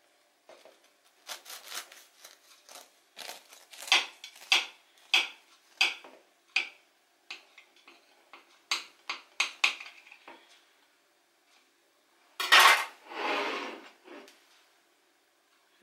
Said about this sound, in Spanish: Y ahora vamos a cortar un trozo para ver el interior